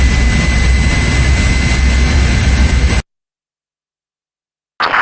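A low-flying airplane from the video game Project IGI roars as a loud, steady jet-engine drone for about three seconds, then cuts to silence before a brief burst of noise at the end.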